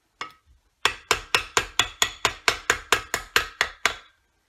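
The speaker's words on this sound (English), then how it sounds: "you can repeat this process of hammering on" Steady, evenly spaced hammer blows ring on metal, about fourteen sharp metallic strikes close by, after one lone tap and a short pause, with no talking.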